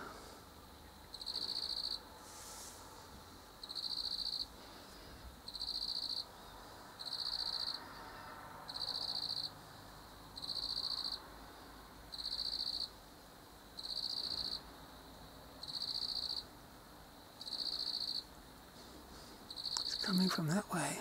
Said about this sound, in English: Listen to that cricket.